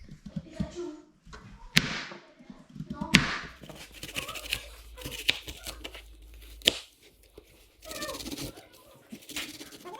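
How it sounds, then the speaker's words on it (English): An onion and a carrot are peeled by hand in a home kitchen while a lasagna is being prepared, giving close, dry papery tearing and crinkling in short irregular bursts with brief pauses between them. "We'll start by peeling off the onion and the carrot and"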